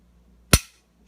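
A single sharp, loud click-snap from an Agency Arms drop-in trigger being pulled on a Glock 34 Gen 4 pistol, close and isolated in near silence, with a short ringing decay.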